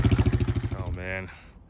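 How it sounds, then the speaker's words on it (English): A Honda Big Red three-wheeler's engine turns over and catches, then chugs in a rapid, steady near-field rhythm before easing off into a lighter running note. "First ride in Arizona on the Big Red. It's happening. I think started right up."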